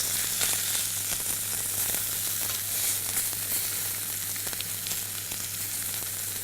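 Salmon frying in a pan, skin browning, makes a steady, close hiss of sizzling oil with soft crackles and a low background hum, no voices.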